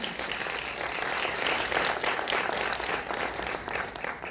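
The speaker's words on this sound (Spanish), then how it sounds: "vamos a darle un aplauso a Fer Garduño" Steady applause from an audience at a live event, a dense unbroken patter of many hands clapping at moderate loudness, with no voices over it.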